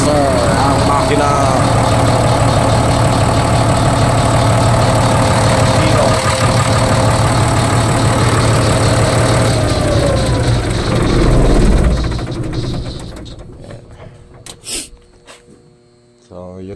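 An Airman diesel generator, repaired after rodent-chewed wiring and a no-voltage fault, runs loudly and close with a steady mechanical drone for most of the stretch before winding down and fading away near the end.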